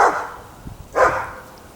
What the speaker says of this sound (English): sometimes I have dogs barking